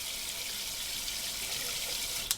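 Tap water runs through a water ionizer's diverter in a continuous hissing rush, steady and close, with a faint knock near the end and no talking.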